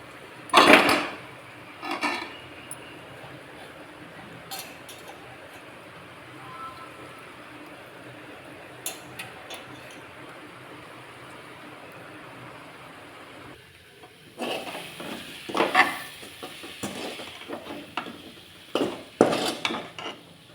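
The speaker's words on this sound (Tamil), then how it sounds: "இப்போ நம்ம தேங்காய் திருவலை போட்டு 2 கிளறி நம்ம ஆஃப் பண்ணிடலாம்." Grated coconut stirred into an elephant yam stir-fry in a pan, a couple of sharp metal scrapes and clinks at the start, a quiet stretch, then a louder burst of repeated scraping and clattering near the end.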